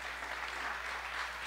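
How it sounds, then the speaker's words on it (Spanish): A church congregation claps for the Lord, a steady wash of applause from many hands, fairly distant and even throughout. "Démosle un fuerte aplauso al Señor"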